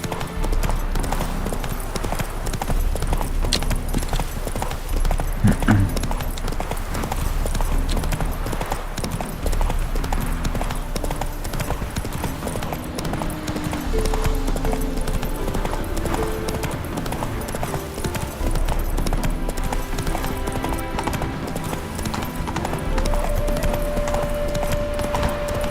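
Roach, the horse in The Witcher 3, gallops with steady, continuous rhythmic hoofbeats that persist throughout, layered over a dense in-game background of music and ambience.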